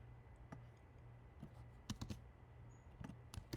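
Quiet typing on a computer keyboard, scattered keystrokes and small bursts of clicks in an irregular rhythm over a low steady background hum.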